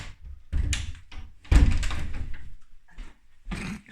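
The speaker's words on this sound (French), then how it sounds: "la porte s'est ouverte" A door swings open indoors with a few thumps and knocks, a couple of louder bumps standing out among quieter handling noises and brief rustles.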